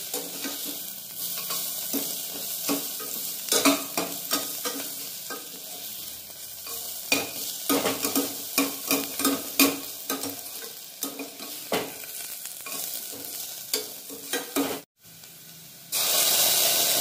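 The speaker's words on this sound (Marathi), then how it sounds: "कुकर त्याच्यामुळे लगेच कांदो लाल झाला बघा" Onions frying in a pressure cooker while being stirred, with steady sizzling hiss and repeated scraping stir strokes, loud and close, no voices.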